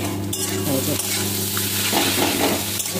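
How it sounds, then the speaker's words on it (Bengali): Chopped onion with a pinch of salt frying in a pan, a steady close sizzle with stirring scrapes running throughout for three seconds, no voices. "পেঁয়াজ দিয়ে ভাজা ভাজা করলাম।"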